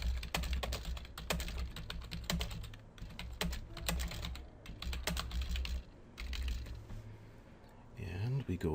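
Bursts of clicky computer keyboard typing, close and uneven, with brief pauses between runs of keystrokes and a voice speaking near the end.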